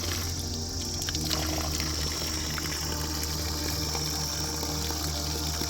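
Cold natural spring water pours steadily at a roadside spring on the way from Oghi to Battal, a continuous close rushing flow with a constant low hum and no talk.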